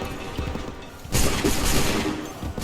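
Musket volley in Assassin's Creed 3: a sudden loud, broad crackling burst of massed gunfire erupts partway through, following quieter background rumble, and rolls on with sustained noisy echoing.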